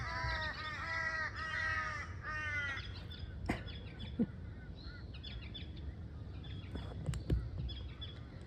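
Several loud, harsh crow caws repeat in a quick series at the start, followed by softer chirps and scattered clicks against a steady outdoor background.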